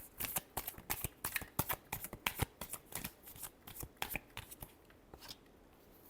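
A deck of tarot cards is shuffled close up in a run of quick, crisp riffling bursts, about two dozen in a steady rhythm that slows and thins toward the end, with no talk.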